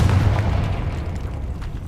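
The Confringo blasting spell detonates in Hogwarts Legacy, a heavy, booming blast with a deep rumble that fades steadily over a couple of seconds.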